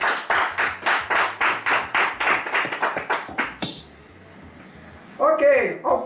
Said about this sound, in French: On acclame Marcel.